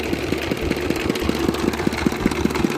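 A Dongfeng diesel engine, used for pumping water to rice fields, idles steadily with a rapid, even low knocking beat, close and loud with no talk over it.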